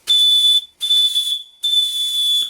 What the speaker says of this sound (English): Time to give the whistle a test now I've adjusted it.